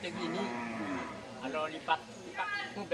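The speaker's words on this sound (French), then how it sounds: "Et c'est ta vache, là? Oui, ma vache." A cow moos several times on a farm, with drawn-out lowing calls rising and falling at moderate distance. Faint voices are audible underneath.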